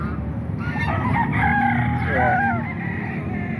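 Chickens and a rooster crowing at a Saturday tiangge market in Baliwag, Bulacan, near SM Baliwag; a close crow rings out over a steady murmur of market noise and clucking, with a brief spoken word.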